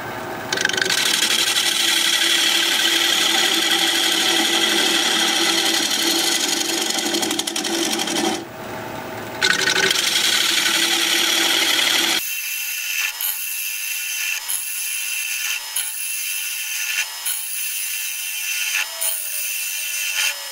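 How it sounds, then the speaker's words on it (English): A wood lathe spins a mesquite bowl while a scraper shears its outside edge, giving a loud, steady scraping roar that cuts off partway and gives way to a lighter rhythmic whirring and ticking. "I'm shear scraping now on this outside edge."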